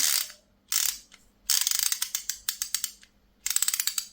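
Greased ratchet from a Parkside 216-piece socket set, 2024 version, clicking in several quick bursts of rapid, crisp pawl ticks separated by short pauses, close and loud with no voice over it.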